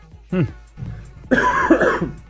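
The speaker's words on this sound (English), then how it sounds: "Cough, cough, cough." A few harsh, throaty coughs come in quick succession, close and fairly loud, with voiced, rough edges.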